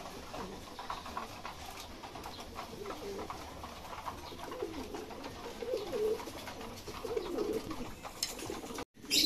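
Racing pigeons coo softly and continuously in a loft, joined by faint pattering and fluttering, with one short gap just before the end.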